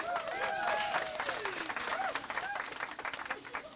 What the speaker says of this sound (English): Let's give Dr. D. Miro Gomez a round of applause.